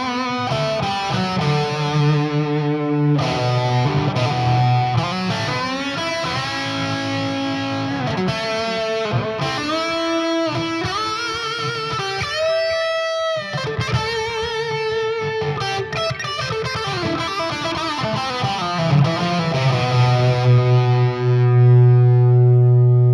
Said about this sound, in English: even when I push the volume pedal all the way down, meaning all the delay and reverb you can get